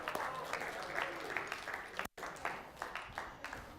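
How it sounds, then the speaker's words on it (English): An audience gives a round of applause at a church gathering, a fairly faint but continuous patter of clapping with a brief dropout midway. "Give them all a round of applause."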